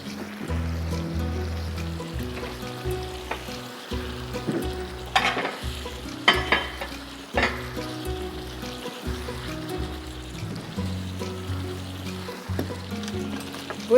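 Beef curry (mixed beef bhuna) being stirred in a frying pan, a steady close oil sizzle with repeated scraping strokes of a spoon against the pan and occasional sharper clinks, continuous without talk.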